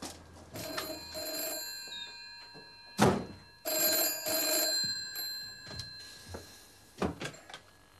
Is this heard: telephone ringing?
yes